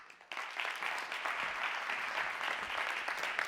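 Concert-hall applause at a chamber music award ceremony, a dense, steady clapping from an audience that starts abruptly and continues evenly to the end.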